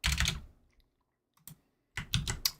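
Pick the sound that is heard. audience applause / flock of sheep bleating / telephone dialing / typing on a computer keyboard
typing on a computer keyboard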